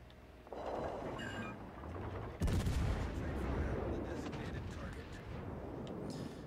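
Naval gunfire from the battleship Kansas in World of Warships Legends: a heavy booming salvo lands mid-clip over ongoing rumbling battle noise, with a voice talking faintly underneath.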